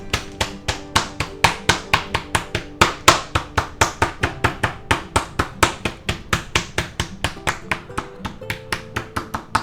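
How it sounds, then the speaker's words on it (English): A meat hammer's flat side pounds chicken steadily, dozens of sharp, evenly spaced thuds in a quick, regular rhythm, loud and close, with no talking. "let's go ahead and use our favorite tool, you know, a meat hammer"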